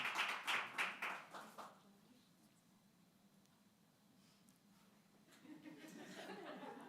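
Audience clapping at a 2022 Gold Humanism Honor Society induction ceremony, a burst of distinct hand claps and light laughter in the opening two seconds that fades to quiet room tone, with murmuring rising near the end.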